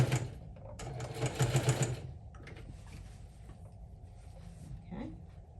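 A sewing machine fitted with a zipper foot stitches down a fabric edge for a quilted crossbody handbag in a short, fast whirring burst, then falls quieter with faint mechanical rustling and a small clunk.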